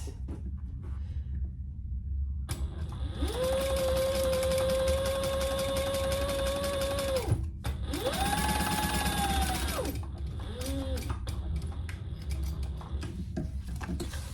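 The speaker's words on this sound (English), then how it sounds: "I'm going to sew down the sides of that." A sewing machine stitches down the sides of a curved handbag, whirring through two long steady runs with a short pause between them, then a brief final burst, close and clear.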